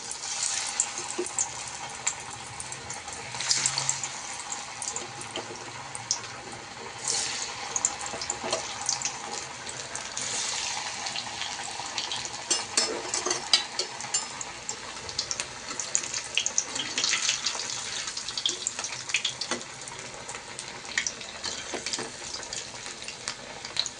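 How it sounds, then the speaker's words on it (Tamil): Banana flower vadas deep-fry in hot oil, giving a continuous close crackling sizzle with small bursts and pops for the whole stretch. No one talks over it. "இப்போ நம்ம வந்து இதை எண்ணெயில் ஒவ்வொன்றா போட்டு ஒரு அஞ்சு அஞ்சாக போட்டு எடுக்கலாம்"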